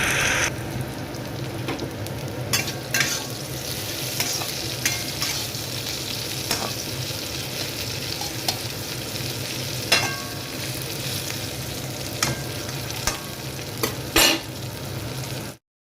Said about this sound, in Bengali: আর আমাদের জন্য উচ্ছে একটু ভাজবো